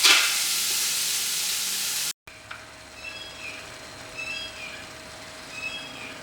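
Mutton dropped straight into a hot, heavy copper pot with no oil gives a loud, hissing sizzle for about two seconds, then drops to a faint, low crackle.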